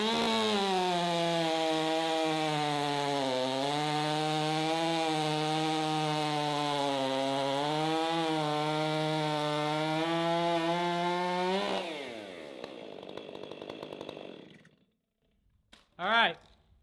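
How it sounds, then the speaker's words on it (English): A Stihl 500i and a custom 660 chainsaw with fresh chains on 25-inch bars cut through wood. The engines drone loud and steady for about twelve seconds, then wind down and idle, ending with one brief rev. "We're gonna put new chains on both saws, 25-inch bars, and see which one cuts faster."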